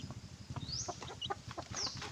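Faint, soft clucking from Black Australorp chickens nearby, a few quick irregular clucks and chirps over low background rustle.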